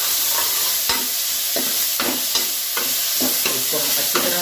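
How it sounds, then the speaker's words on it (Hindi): Chopped tomatoes hit hot onions frying in a pan for dal makhani, a loud steady sizzle with intermittent scraping clacks of a spoon stirring, close and without talk. "इसकी आवाज ही मेरे को बहुत अच्छी लगती है जब हम टमाटर डालते हैं।"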